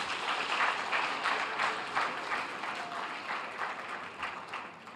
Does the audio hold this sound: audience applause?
yes